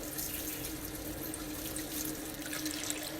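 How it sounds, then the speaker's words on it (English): Hot water runs from a kitchen tap into a cup, a steady close splashing stream with a bright, fizzy wash of droplets and no pauses over a few seconds. "So I'm going to run some hot water in my cup"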